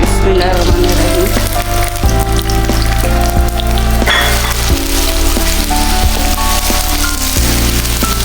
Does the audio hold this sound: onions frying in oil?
yes